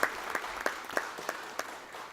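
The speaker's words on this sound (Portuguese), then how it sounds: "uma salva de palmas para o nosso grande amigo" Sparse, quiet applause at a municipal Life Protection and Defense Week event in 2019, heard as a thin run of separate claps at a steady pace, faint and without voices.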